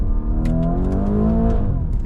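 A Lamborghini Urus engine revs hard with its exhaust open, a loud, close, rising roar that climbs in pitch and holds steady throughout, with faint interior noises over it.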